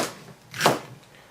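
A single knife chop through celery on a cutting board, one short crisp thunk, close and fairly quiet.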